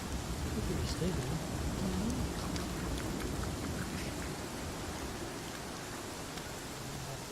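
Steady rain falls in the fantasy video game Pathfinder: Kingmaker, a constant soft hiss with scattered drop patter, while a low voice murmurs faintly underneath.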